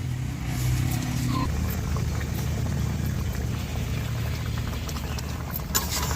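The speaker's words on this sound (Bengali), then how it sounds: "এই যে আমার আলুগুলো ফুটে আসছে না" Potatoes boil in water in a cooking pot, a steady, close bubbling and hissing rumble that carries on without a break.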